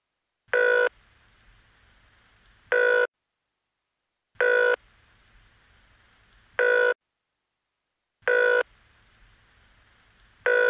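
Telephone ringing in the NBA 2K15 video game, three pairs of clean electronic ring bursts spaced evenly with silent gaps between them, clear and alone.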